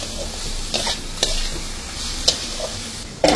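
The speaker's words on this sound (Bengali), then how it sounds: "মাশরুম কষছে ভালো করে, একটু কষে তেল তেল ছেড়ে গেলে আমি নামিয়ে দেবো।" Mushrooms sauté in oil in a pan, a steady low sizzle broken by several sharp scrapes and clinks of a stirring spoon at irregular intervals, close up and with no talk.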